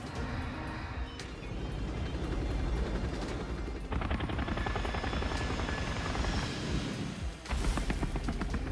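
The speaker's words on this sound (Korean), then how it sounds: "헬기 내려오는 연출." Helicopter descending in a gacha video game's summon animation: a loud, continuous rotor and engine roar with heavy low rumble, swelling in bursts and layered with dense effects, no talking.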